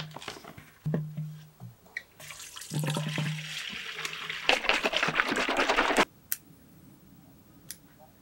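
Water poured into a container holding horticultural sulfur for treating mildew on bonsai, a splashing, gurgling pour in bursts that builds to a steady rush for several seconds, then stops, leaving brief clinks.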